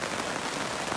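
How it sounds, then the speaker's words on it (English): Torrential rain drums on a caravan awning in the Netherlands, a dense, steady hiss of close patter with no pauses and no voices. "Absolutely torrential rain out there, as you can hear on the awning."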